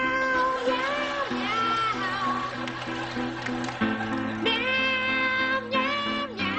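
A stand-up comedian imitates a cat with a string of drawn-out, rising and falling meows in a nasal voice, several in a row, with a low room hum underneath.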